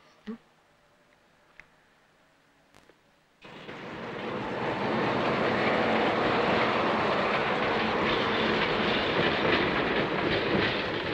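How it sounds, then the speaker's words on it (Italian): A train pulls into a station in a 1987 Italian film, its broad rumbling roar swelling suddenly after a few quiet seconds with faint knocks, then holding steady and loud to the end. "Stazione laggiù. Il treno arriva"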